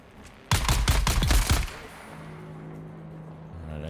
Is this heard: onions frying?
no